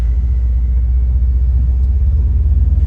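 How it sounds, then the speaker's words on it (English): Steady low road rumble and engine drone inside a moving car in lunch-hour traffic, continuous and fairly loud with no talking. "A lot of traffic for lunch hour."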